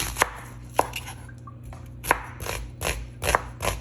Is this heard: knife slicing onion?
yes